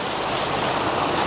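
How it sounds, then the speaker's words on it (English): Ocean surf rolls in and breaks on the shore, a loud, steady wash of white water filling the whole moment with no voices. "we've got a nice wave coming in now"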